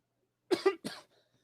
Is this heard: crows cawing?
no